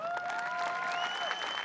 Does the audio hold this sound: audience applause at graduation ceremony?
yes